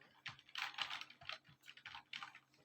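Quick bursts of typing clatter on a computer keyboard as a localhost address is entered into a browser, a close, quiet run of keystrokes in uneven clusters.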